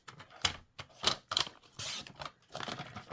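Scissors or a paper trimmer cut a 3-inch piece of cardstock into strips for a stamped card, giving several short, crisp snips in an uneven rhythm, close up with no talking.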